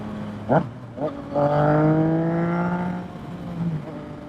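A Yamaha MT-09 motorcycle with a full Yoshimura exhaust and no dB killer gives two short, sharp throttle blips, then a loud sustained rev that holds for about two seconds before dropping back to a low idle, heard close up.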